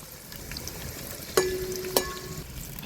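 Onions and fenugreek seeds sizzle in hot oil in a pan for a Telugu-style fish curry, a soft steady frying hiss with two sharp clinks of a utensil against the pan.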